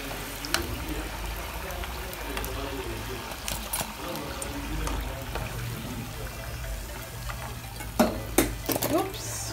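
Potatoes for viazi karai fry in hot oil, giving a steady close sizzle with occasional stirring and scraping clinks, a few louder knocks near the end.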